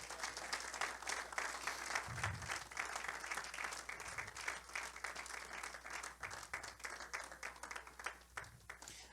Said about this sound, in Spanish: Denle un aplauso fuerte a Cristo Jesús